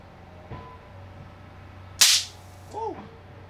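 A rebuilt Tesla coil firing a single loud, sharp spark crack that stands out against a quiet humming room, with a soft click before it and a brief fainter noise after.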